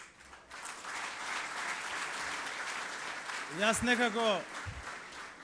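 An audience at a political event claps, a sustained, fairly distant patter of many hands that continues throughout, with a voice briefly rising over the clapping partway through.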